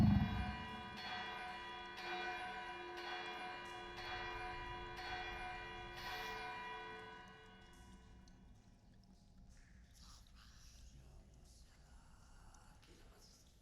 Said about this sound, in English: Oh no, it's a good old goblin alarm bell.